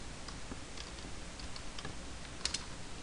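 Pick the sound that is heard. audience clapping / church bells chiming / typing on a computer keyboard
typing on a computer keyboard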